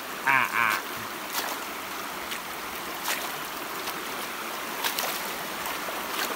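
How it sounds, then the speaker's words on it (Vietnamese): A rocky mountain stream in the Truong Son forest rushes in a steady, even wash of water, with a few brief knocks and clicks near the start. "Suối rất nhiều đá các bạn ạ. Lòng suối này dày đặc đá."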